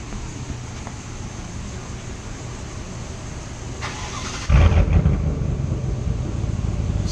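A 2019 Chevrolet Silverado with a 5.3 V8 and a deleted muffler fires up after a steady idle-like background drone, then settles into a loud, raspy rumble that carries to the end.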